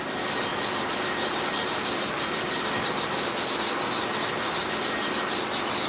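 Lard oil and abrasive being spread over a lapping plate for sharpening clipper blades, worked with a small wood block in a continuous close rubbing and grinding rasp that stays steady and unbroken, with no voices.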